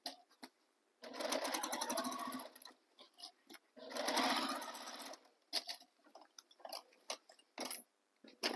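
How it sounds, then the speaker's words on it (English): A sewing machine stitches around a fabric tote bag without a free arm, in two bursts of rapid needle chatter with short clicks and handling noises between them. "I don't have a free arm on my machine, so I have to stitch this way."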